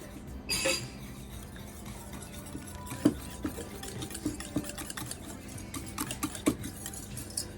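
A whisk beating scone batter in a bowl, quiet soft stirring with a few light clinks against the side, close and without talk.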